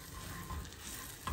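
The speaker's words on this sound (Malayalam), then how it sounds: "ഗാർലിക്ക് ഒന്ന് ടോസ്റ്റായി വരട്ടെ." Garlic toasting in melted butter in a pan, a soft steady sizzle throughout with a brief louder stir near the end, no talking.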